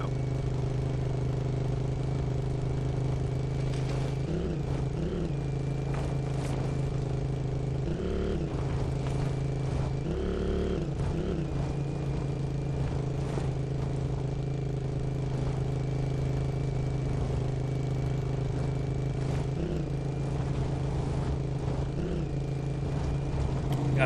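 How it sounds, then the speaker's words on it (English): A vehicle engine in an online war game rumbles steadily and loudly throughout, a constant low drone with occasional clattering bumps and shifts in revs. "This thing's engine is quite loud."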